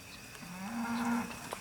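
Cattle at a Georgia fall feeder-calf auction: a single drawn-out moo from steers rises mid-clip and holds for about a second, fairly close and clear over low barn noise, with no talking.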